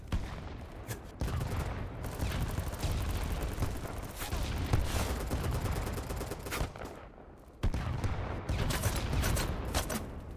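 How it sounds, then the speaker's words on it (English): Sustained gunfire in the video game BattleBit, with heavy overlapping bursts of automatic shots and occasional louder bangs. The shooting drops briefly near the end, then resumes loudly, close and dense, with no voices over it. "They're shooting from behind."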